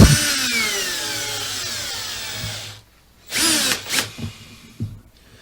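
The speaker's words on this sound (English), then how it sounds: "Now what I will do is I'm going to prepare 2 screws, coach screws in here." A power drill drives coach screws into a timber A-frame trestle, whining loudly and steadily for nearly three seconds, then stopping. Several shorter, sharper bursts follow as the screws are snugged home.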